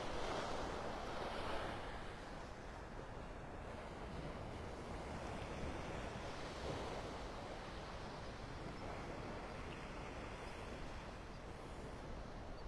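Steady surf washes onto the beach at the north end of Delnor-Wiggins Pass State Park in North Naples, Florida, a continuous broad roar of breaking waves mixed with wind buffeting the microphone, with no speech.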